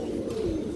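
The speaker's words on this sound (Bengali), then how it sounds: "এগুলো হাই ফ্লায়ার কবুতর দর্শক" A brief, soft coo from a high-flyer pigeon, a single low murmuring note heard faintly against a dull background hum.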